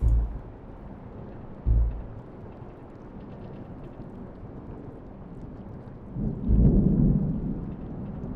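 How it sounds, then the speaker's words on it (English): Thunderstorm in a horror video game: a heavy thunder crash and rumble, steady rain hiss throughout, and a second, longer rolling boom near the end, loud and close with no talking. "A big storm came and scary thunder roared."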